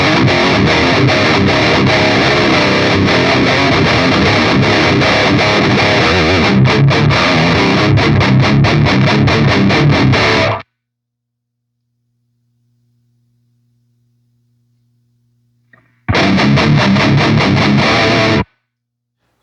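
Electric guitar through a Line 6 POD Express set to about half gain plays a driven, crunchy riff for about ten seconds, falls silent, then returns briefly with another loud burst, without any talking.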